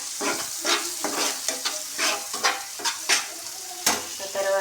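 Fish curry with fish masala being stirred in a pan, rhythmic scraping strokes over a bubbling sizzle, close and fairly loud, with no talking.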